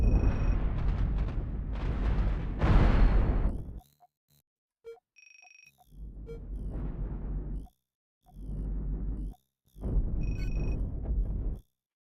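Overclocked stack cannons fire in a spaceship video game, heard as several loud, sustained roaring bursts, each lasting a second or two, separated by brief near-silent gaps.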